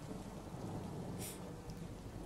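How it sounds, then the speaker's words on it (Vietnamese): Heavy rain pours onto a tile roof in a storm, a dense steady hiss and patter filling the whole stretch, with a low rumble of thunder rolling underneath; the sound is fairly faint and distant, with no voices. "trời đổ cơn mưa tầm tã. mưa quật rào rào vào mái ngói như là ném đá"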